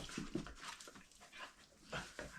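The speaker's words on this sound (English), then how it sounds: "Here's the dog." A dog close by whimpering softly with quick panting breaths in short bursts, fairly quiet, with no talking over it.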